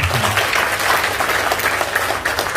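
Audience applause at an Indonesian seminar on debt repayment, a steady, dense wash of many hands clapping at close range, sustained loudly throughout with no talk over it.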